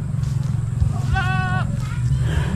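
A single goat bleat rings out briefly over a low rumbling background, moderately near, in a rural village.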